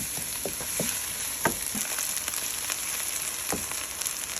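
Onions for freekeh stuffing sizzle softly in a pan with a steady, quiet crackle. A few louder pops and spatters stand out, and no one speaks.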